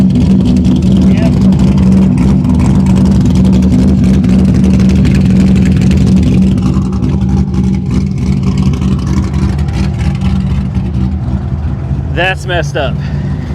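A car engine with its muffler and intake removed drones loudly and raw throughout, holding a steady throaty idle with slight rises, while people talk over it.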